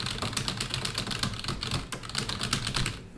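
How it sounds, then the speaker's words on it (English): Fingers type steadily on a computer keyboard, a close, continuous patter of quick key clicks with no pauses. "and then I'll just type into here."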